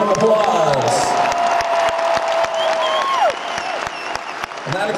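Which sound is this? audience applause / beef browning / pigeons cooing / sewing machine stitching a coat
audience applause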